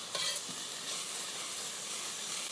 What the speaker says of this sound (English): So we just stir them around, cook them slowly.